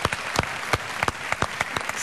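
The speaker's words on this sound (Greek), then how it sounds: "Πολύ μεγάλο χειροκρότημα θέλω για το Μαράκι που ήταν σήμερα κοντά μας." A studio audience claps at a televised music chart show, heard as distinct, sharp hand claps in an uneven rhythm. The claps are fairly close and loud, with no talk over them.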